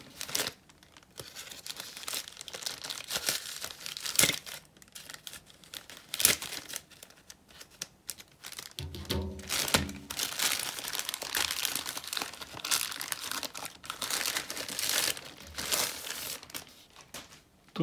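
A plain plastic bag crinkles and tears as a 12-inch electronic drawing tablet package from AliExpress is opened, with irregular close-up rustling bursts and sharp crackles over several seconds and no talking.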